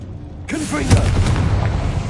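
A Confringo blasting curse explosion in a Harry Potter video game erupts suddenly after a short quiet lead-in, then keeps roaring as a loud, sustained rumble with a voice-like cry woven through it.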